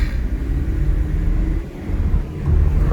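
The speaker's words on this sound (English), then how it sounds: "I'm just in with a big group of cars" A low, steady rumble of cars moving together in city street traffic, heard from inside a car, with the engine and road noise dipping briefly and then swelling again.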